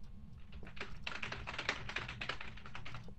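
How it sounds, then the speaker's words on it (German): Computer keyboard keys clicking in a steady run of quick, close taps during a Phasmophobia game stream session, with no talking. "Man hört deine Tastatur klicken."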